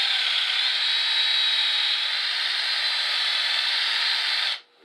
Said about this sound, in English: Now we're going to need to ream it out a little bit.